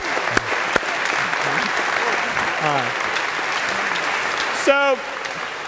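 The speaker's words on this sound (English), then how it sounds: "perhaps coupled with a round of applause" An audience at a live lecture claps in a sustained round of applause, steady and fairly loud throughout, with a voice briefly speaking over it.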